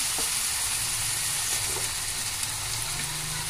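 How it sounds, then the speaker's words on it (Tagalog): Broccoli, squash and bottle gourd sizzle steadily in a hot frying pan for pansit, a constant close hiss of frying with faint stirring and no voices. "So, ilalagay na natin yung gulay. Sari-saring gulay yan. May broccoli,"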